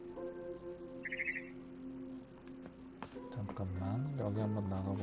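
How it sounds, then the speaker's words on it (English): A barn swallow chirping outside a window at night in the video game What Remains of Edith Finch, a brief faint twitter early on, followed by a person talking over the game audio. "Then I heard chirping outside my window."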